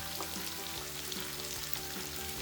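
Yellow, red and green capsicums for veg Hakka noodles sautéing over a high flame, a dense continuous sizzle with quick rhythmic tosses and scrapes in the wok, no talking.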